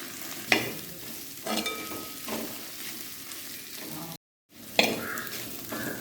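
Beef with coconut stir-fried in a pan for a Kerala-style beef ularthu: steady sizzling and frying under intermittent scrapes and clinks of a spoon stirring, with a brief dropout near the end.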